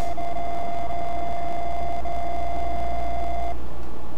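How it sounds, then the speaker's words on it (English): Amstrad computer beeper in F1 GP Circuits giving one steady electronic tone with faint higher harmonics, sustained for about three and a half seconds before cutting off over a low background hum. "Here comes the Amstrad beeper."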